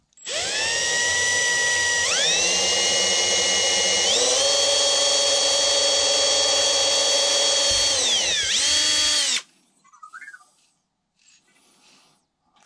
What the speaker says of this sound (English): I'm just gonna drill a hole right here